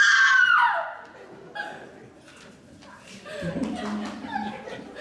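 A piercing scream rings out loud at the start in a stage play at a resort variety show, then fades into audience laughter and chatter from the crowd.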